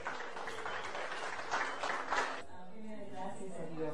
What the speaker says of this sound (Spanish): Y el aplauso de todos y cada uno de nosotros.